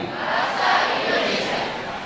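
A university audience at a campus event roars with a dense, sustained wash of clapping and crowd noise, loud and steady throughout.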